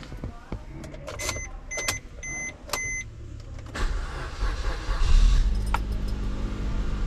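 Car being switched on before setting a stereo to auxiliary mode; a series of electronic chimes and beeps, clicks and a key rattle, then the engine turns over into a steady low rumble, close, no talk.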